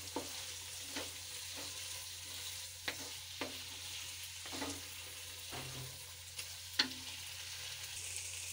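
Aloo baingan, a potato and eggplant curry with fresh coriander, being stirred in a pan: a steady low sizzle is broken by about eight sharp scraping strokes of a spoon, spaced every second or so, close and with no talking.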